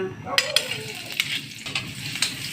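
Sliced bitter gourd sautéing in a pan, with a soft steady sizzle and several sharp scrapes and clacks of a spatula against the pan, close and clear.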